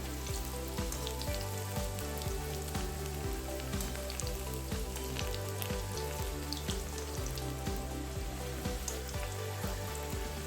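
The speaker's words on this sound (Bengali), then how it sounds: "এগুলো কিন্তু ভাজতে একেবারেই সময় লাগে না খুবই তাড়াতাড়ি হয়ে যায়" Flour and coconut snack pieces deep-frying in hot oil, a steady dense sizzle and crackle running evenly throughout, close and fairly quiet, with no voices.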